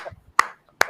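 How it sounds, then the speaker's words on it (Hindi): Two sharp, isolated hand claps about 0.4 seconds apart, close and crisp, with faint low murmuring before the first and a quiet gap between. "तालियां।"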